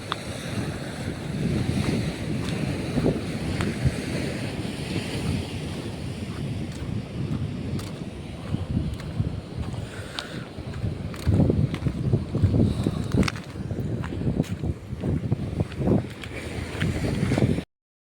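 Surf rolling onto a Konkan shore, a long steady roar of breaking waves mixed with wind noise on the microphone, with occasional sharper crackles and rises in intensity.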